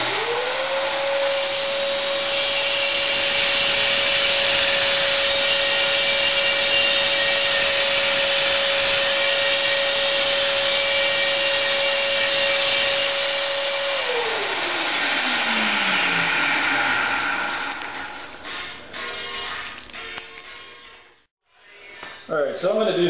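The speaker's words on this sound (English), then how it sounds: "I'm just going to run it through the belt real quick on this side just to clean up the burrs" A belt sander runs up to a steady high whine while cleaning burrs from the drilled holes of a knife blank, holding for about fourteen seconds before spinning down, followed by clattering handling noises.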